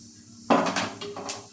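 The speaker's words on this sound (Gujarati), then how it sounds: "જીરું એડ કરી આપણે આ રીતે હલાવી લેશું જેથી બધું જીરું બરાબર ચડી જાય" Spatula scraping and clinking in a hot pan as cumin seeds are stirred through ghee, a sudden sizzling burst followed by several metallic scrapes, close and fairly quiet.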